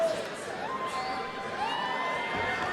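A crowd at a karate combat event yells and cheers loudly and continuously, with shouts rising above the dense roar.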